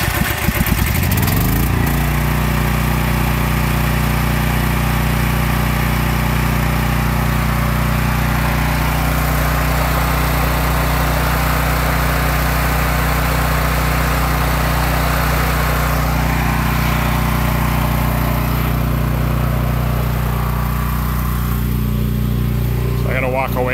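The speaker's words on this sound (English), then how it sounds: "I will run the generator for 15 to 20 minutes" Small portable generator engine running steadily after being started, a loud continuous mechanical drone with a constant low hum and buzzy overtones, holding an even level throughout.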